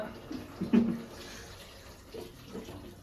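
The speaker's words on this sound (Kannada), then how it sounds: "ನಮ್ಗೆ ಎಷ್ಟು ರಸ ಬೇಕು ಅಷ್ಟು ನಾವು ಚಿಕನ್ಗೆ ನಾವು ನೀರು ಹಾಕೋಬೇಕು" Filtered water is poured into a pot of boiling chicken curry, a short splashing gush near the start that fades into faint bubbling and background noise.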